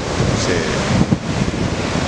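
Ocean surf breaking on the beach at Anglet with steady wind noise across the microphone, a continuous loud wash of waves and gusts; a voice talks over it.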